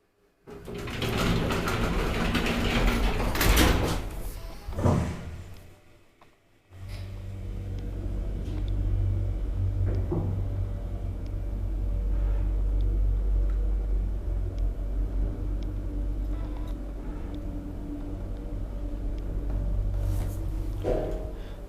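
An old Kone roped hydraulic elevator runs with a steady low rumble and motor hum, a door sliding shortly before the ride settles into an even drone.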